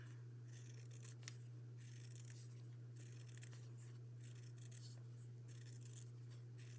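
Scissors cut through fabric along a pattern piece for a pincushion bottom, a faint, continuous snipping and rustling over a steady low hum.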